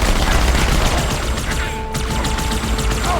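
Loud, dense automatic fire from a dual-wielded plasma rifle and SMG in Halo 2, rattling continuously with rapid overlapping shots and brief mechanical clicks, no talk.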